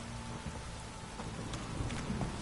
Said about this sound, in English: This downpour's a blast.